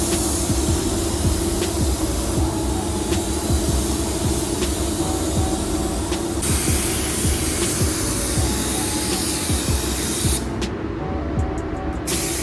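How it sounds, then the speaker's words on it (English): A spray gun lays base coat paint onto a Tesla Model Y in a body shop after bumper replacement, a steady loud hiss of air and atomized paint running continuously without talk. "So now that we sprayed the base, we're gonna start spraying clear."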